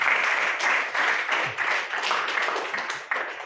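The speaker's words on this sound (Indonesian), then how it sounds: "Tepuk tangan dong" Students in a classroom clap together, a dense, steady patter of many hands close by that carries on for several seconds without a break.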